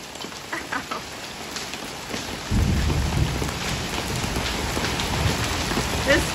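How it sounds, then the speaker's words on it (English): A summer hailstorm in Arizona with a steady, dense patter of rain and hail on surfaces. A heavy rumble of thunder rolls in partway through and keeps growling under the downpour. "This storm is crazy."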